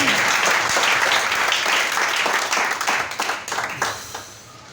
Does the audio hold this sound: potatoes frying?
no